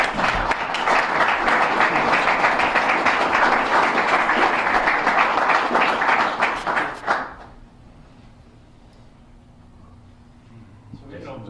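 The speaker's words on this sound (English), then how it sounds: "So give them a big round of applause" A press-conference audience breaks into sustained applause welcoming new men's basketball assistant coaches, dense and loud for about seven seconds before cutting off abruptly into a quiet room.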